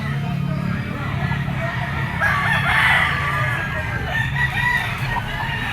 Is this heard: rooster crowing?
yes